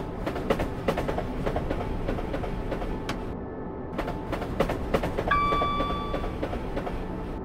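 A Class 377 electric train running on the London–Bedford line in Train Simulator 2015, with steady rolling rumble, rhythmic rail clicks and a brief high tone partway through, continuous and fairly close.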